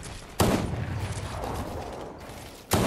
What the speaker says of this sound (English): Got sniped, dude.